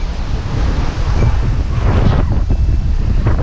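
Strong wind buffets the microphone at a small beach cove on a private island in the Bahamas, a steady, loud low roar with gusts and no voices.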